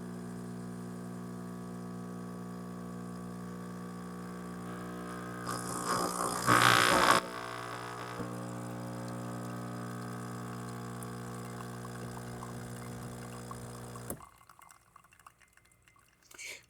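Ninja espresso machine brewing a double shot: a steady pump hum with layered tonal drone runs for about fourteen seconds, swelling with a hissing burst midway, then cuts off abruptly leaving near silence.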